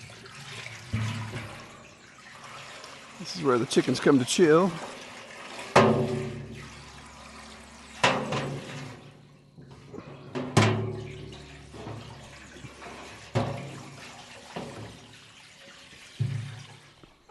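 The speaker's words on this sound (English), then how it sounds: "Now we'll fill up the chill tank." Water runs and splashes into a chill tank set up for processing chickens, coming in uneven gushes and trickles with pauses between them, while a person speaks briefly.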